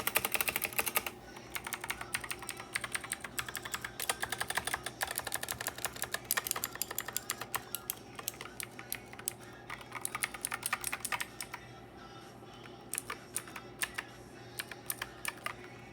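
Rapid, loud Black Shark mechanical gaming keyboard typing, continuous clacking for most of the stretch before thinning into scattered keystrokes.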